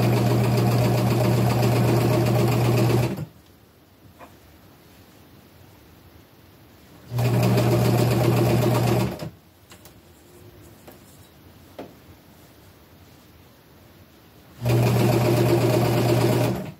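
A sewing machine stitches upcycled clothing in three loud, steady bursts of rapid mechanical whirring, each lasting a few seconds, separated by quiet pauses with faint handling sounds.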